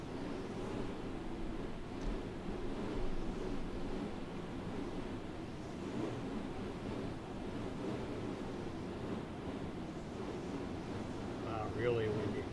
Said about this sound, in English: Wow, really windy.